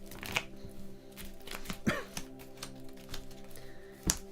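Cards are shuffled for the board game Undaunted: Stalingrad as a run of soft, quick riffling and flicking clicks, close and quiet, with no talking.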